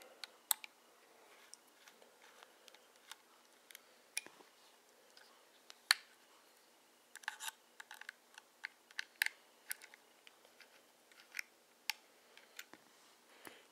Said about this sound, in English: I just need to unscrew this right here.